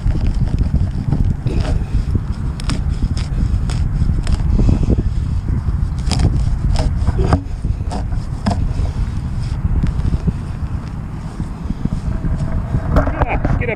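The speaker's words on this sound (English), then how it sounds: "Wind's blowing a little bit." Wind blowing outdoors during a metal detecting dig, a steady loud rush and buffeting against the microphone throughout, with scattered thumps and handling noise.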